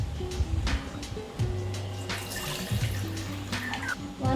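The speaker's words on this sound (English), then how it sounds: "take a blender, put in 1 cup coconut milk" Coconut milk pours into a blender, a steady liquid splash and trickle lasting a few seconds, close and moderately loud, with a sustained tonal hum running underneath.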